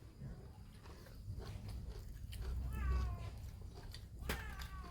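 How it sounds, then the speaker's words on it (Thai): A cat lets out a couple of short, rising meows over a low background rumble and faint shuffling, fairly close but not loud. "คลิปนี้ยังจะไหลเสียงแมว"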